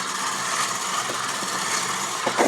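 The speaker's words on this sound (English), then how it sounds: "if you're using your dough hook on a KitchenAid, it never goes faster than the number 2 on the dial" A KitchenAid stand mixer kneads bread dough with its dough hook on speed 2, giving a steady mechanical motor drone with a few faint knocks, running alone without talk.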